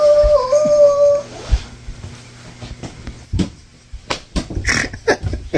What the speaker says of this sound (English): Having a 2-year-old howl while we're trying to talk to you guys.